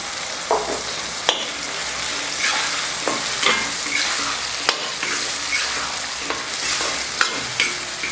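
Masala sizzling and frying in oil in a pan for a Tamil brinjal tamarind curry, a steady loud crackle broken by occasional stirring scrapes and clicks of a spoon, with no talking.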